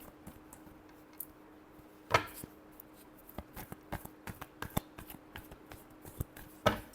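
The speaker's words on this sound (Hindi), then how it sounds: "Last shuffle." Tarot cards are shuffled in a series of short, sharp card snaps and taps, close and fairly quiet, with a few louder riffles standing out over a soft background and no talking.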